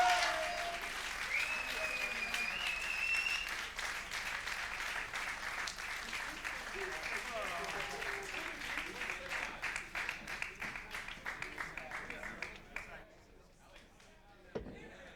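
Audience applause at the KLASK World Championship finals, a sustained wash of clapping with scattered voices and cheers, thinning out toward the end, with a single louder clap near the close.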